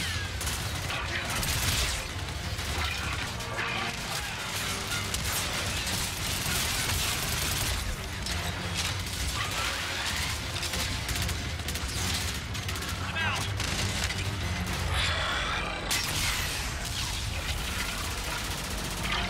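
Dense Call of Duty: Infinite Warfare combat: rapid gunfire and heavy rocket launcher blasts roar continuously, with a voice speaking under the din.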